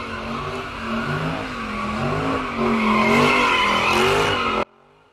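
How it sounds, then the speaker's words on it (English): Street racing cars drift and do donuts at a city intersection around 3 a.m., tires squealing in wavering loops while engines rev and climb in pitch, loud and continuous before cutting off abruptly. "drivers drift, do donuts, and rev their engines"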